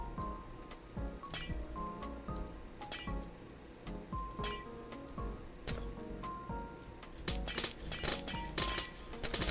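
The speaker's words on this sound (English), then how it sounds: "I love smashing sea lanterns." Glass-like blocks and sea lanterns being smashed in Minecraft, a busy run of bright clinks and chinks repeating at an uneven rhythm, with denser crashing bursts toward the end and no talking.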